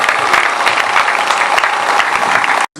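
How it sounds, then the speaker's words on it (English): A crowd at a community gathering claps loudly and continuously, a dense close-up patter of many hands that cuts off abruptly at the end. "Please continue to clap."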